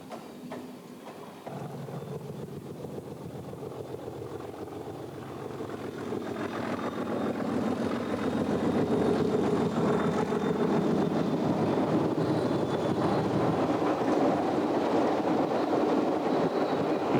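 An English Electric diesel locomotive rumbling as it runs, its engine growing steadily louder and fuller as it approaches, with wind noise on the microphone and no talking.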